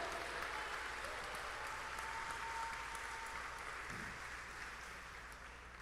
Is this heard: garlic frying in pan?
no